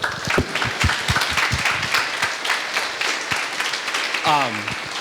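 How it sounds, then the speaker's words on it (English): Warm round of applause from the audience at the TechHub Riga monthly meetup, honoring TechHub and the hosts, with dense clapping throughout and a voice briefly audible near the end. "can you join me in giving TechHub and our hosts here a warm round of applause?"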